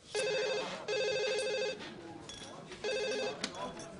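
A telephone rings in a TV sitcom scene, three distinct bursts of repeated electronic trilling with short gaps between them, loud and close, with faint background sounds.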